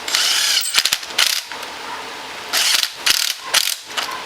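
A ratchet tightens the front brake pad pins on a Can-Am Maverick X3 XMR, giving bursts of rapid, loud clicking close up, separated by short pauses.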